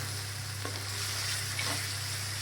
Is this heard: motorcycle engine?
no